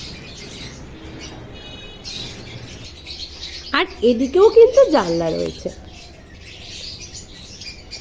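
Birds in a freshly cleaned enclosure with windows on both sides give a brief burst of chirps and squawky calls midway through, moderately loud, with someone talking before it and quiet room noise around.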